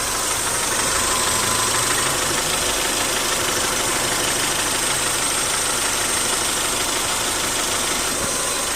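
A car engine with ticking valve lifters idles steadily and fairly loud throughout, a constant mechanical drone with a faint rapid ticking woven into it.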